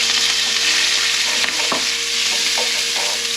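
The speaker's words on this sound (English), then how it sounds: "And we need to stir fry this for 2 to 3 minutes." Food stir-fried in olive oil over high heat sizzles steadily and loudly, with scattered clicks and scrapes of a utensil moving it around the pan.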